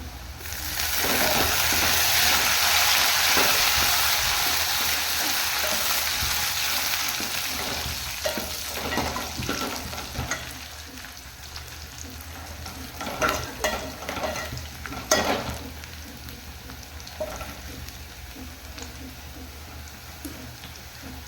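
Browned onion and curry leaves fry in a pan for a dal and bottle gourd sambar: a loud hiss early on that settles into softer crackling, broken by spatula stirs and scrapes.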